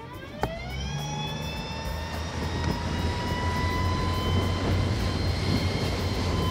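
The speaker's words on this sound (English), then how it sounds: "we're gonna accelerate one more time, and I wanna point out that the motor has a boost mode" A boat fitted with a Torqeedo Deep Blue 40 electric motor accelerates in boost mode and climbs onto plane. A loud, steady electric whine rises over continuous rushing water and wind noise, with no voices.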